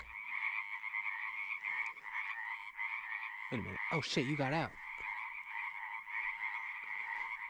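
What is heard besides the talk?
frog croaking in the wild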